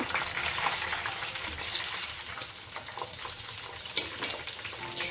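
Homemade hair oil ingredients deep frying in oil until they turn black, giving a loud, continuous sizzle and bubbling hiss throughout, with no voices.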